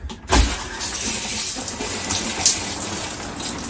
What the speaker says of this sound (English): put the shower water on